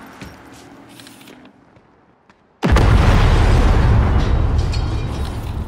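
A burning vehicle explodes in the video game Cyberpunk 2077, a sudden loud boom after near silence that rolls into a long, heavy roar of blast and debris, alone without voices.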